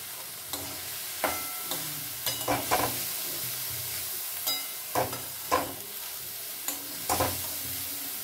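Soaked masoor lentils sizzling in a hot pan while being stirred, with repeated scraping strokes and crackling pops at an irregular rhythm, close and fairly loud.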